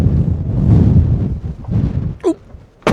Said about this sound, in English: That'll tell you how windy it is.